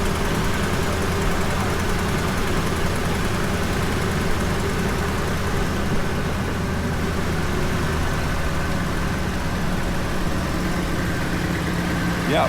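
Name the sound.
2008 Ford F-250 engine idling on remote start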